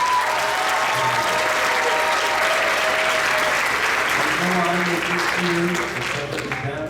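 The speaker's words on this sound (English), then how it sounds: "Round of applause." Audience at a sixth grade band concert applauding, a full room of steady clapping that holds loud throughout, with faint tonal sounds and a little background voice underneath.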